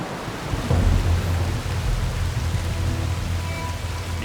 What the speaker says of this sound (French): Il pleut dehors, les pauvres.